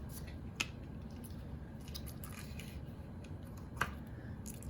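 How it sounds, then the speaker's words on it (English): Scissors snipping through a piece of black ribbon, two quiet sharp cuts about three seconds apart, close by over a low steady background hum. "we're going to go ahead and we're going to cut a piece of ribbon here"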